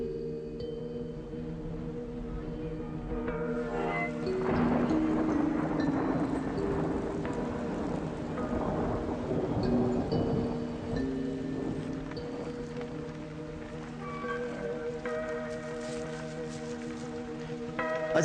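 Steady rain falls on a garden, a soft continuous patter with fine droplets, heard from nearby at a moderate level with no voices.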